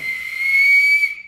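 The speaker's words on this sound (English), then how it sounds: "this is some type of a whistle" A survival-kit whistle is blown in one sustained, loud, shrill blast of about a second, with a slight breathy hiss, then it cuts off; no talking.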